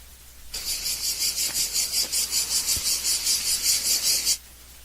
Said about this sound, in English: Now this cicada